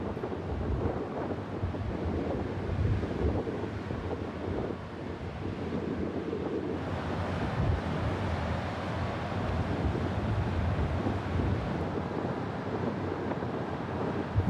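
Ocean waves rolling in at the southernmost point of the Pacific coast, a low steady roar of surf mixed with heavy wind buffeting the microphone, continuous with no voices.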